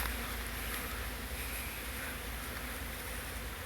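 Honey bees fly around an open feeding station on a fall day, giving a steady, dense buzzing drone from many insects that fills the air, close and continuous, with no talking.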